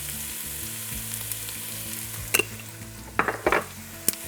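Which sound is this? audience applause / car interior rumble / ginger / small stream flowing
ginger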